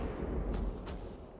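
Ship cannons fire in the Caribbean Legend pirate game, giving a dull, rumbling low boom with two sharp, hissing blasts in quick succession, muffled and moderately distant.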